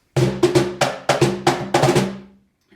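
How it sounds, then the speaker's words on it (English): A short, punchy drum pattern of loud hits in quick succession, roughly eight strikes with a syncopated rhythm, ending in a decaying ring. "there's also another aspect of the beat that's called the drum break"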